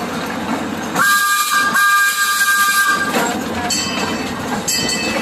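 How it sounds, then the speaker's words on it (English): Steam train whistle at an amusement park blowing two long steady blasts over a hissing background of steam and rail noise, fairly close and loud, with no talking. "That W means a whistle is blowing for the train."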